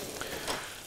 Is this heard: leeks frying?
yes